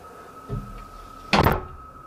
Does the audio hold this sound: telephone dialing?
no